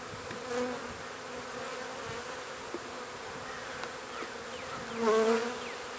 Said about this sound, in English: with this many bees around and so much happening